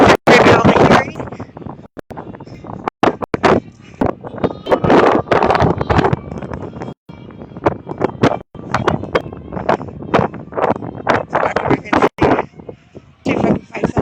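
Strong wind buffeting an outdoor microphone at a political side rally in a Denver park, loud rumbling gusts in bursts that come and go while someone talks throughout.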